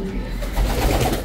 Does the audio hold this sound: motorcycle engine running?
no